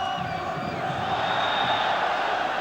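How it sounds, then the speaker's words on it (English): Football crowd of Manchester United fans at a European Cup Winners' Cup semi-final second leg away at Montpellier, a steady roar of massed chanting and cheering heard from a distance, continuous and even throughout. "the only people you can hear now are the Manchester United fans"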